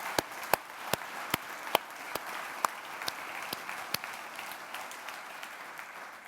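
Summit audience applauding as the day closes, with sparse, distinct claps over a soft wash of clapping that thins out toward the end.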